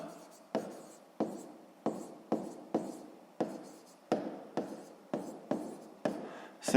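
A pen scratches out a line of math working on paper, giving about a dozen short, crisp strokes in an uneven rhythm. Each stroke sounds close and quiet, and a faint voice murmurs in the background.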